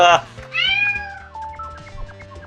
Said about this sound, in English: I forgot to turn off my cat alarm to feed my dog